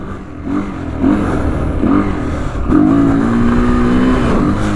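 A Honda XR200 motorcycle engine revs while being ridden, with short rising throttle blips that give way to a longer sustained drone, close and loud with no talking.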